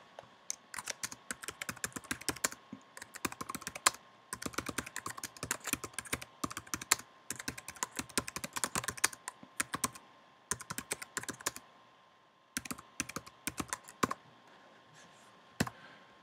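A computer keyboard is typed on in quick bursts of crisp clicking keystrokes with short pauses between runs, close and clear, with no voices.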